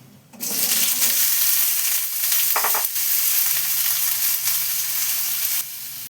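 Diced, peeled bottle gourd hits a hot pan of oil and bursts into a loud, continuous sizzle with brief stirring clatter, heard close up for a vegetarian gourd curry.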